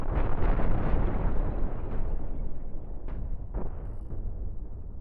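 Ship cannons firing and explosions in the space game Cosmoteer make a dense, continuous roar of booming blasts, with a few sharper pops standing out toward the end.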